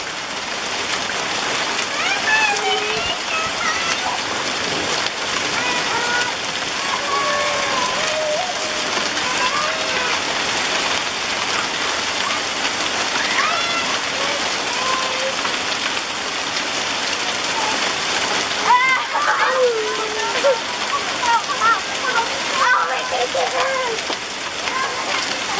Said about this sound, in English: I told you it was going to start hailing.